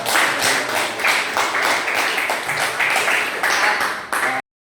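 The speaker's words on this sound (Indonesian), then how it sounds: "Tepuk tangan buat kita semua." Participants at a religious moderation training seminar clap together in a loud, rhythmic, sustained round of applause that stops abruptly.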